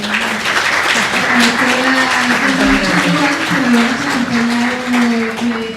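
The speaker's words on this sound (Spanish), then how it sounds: "les agradecemos con el primero, pues un aplauso bien cálido de Salvador" Applause from an audience runs throughout, with a voice speaking over the clapping.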